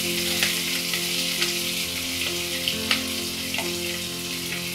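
Chopped onions and dried red chillies frying in a pan for garlic potato spinach curry, a steady close sizzle with light scraping taps from stirring scattered throughout.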